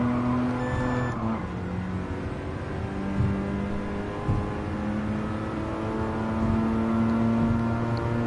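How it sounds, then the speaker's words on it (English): A Mazda RX-7 rotary engine in Gran Turismo, driven on the Tokyo Expressway, holding a steady droning hum with shifting pitch and brief rises in revs, continuous and fairly loud with no talk. "That's pretty accurate sounding for an RX-7."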